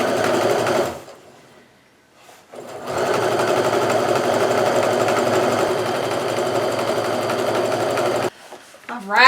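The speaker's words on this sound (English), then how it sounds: "I'm going to make sure I sew it to the sort of medium orange" Sewing machine stitching strips of Kaffe Fassett jelly roll fabric for a quilt, running in steady rapid bursts with a short pause in between, close and loud.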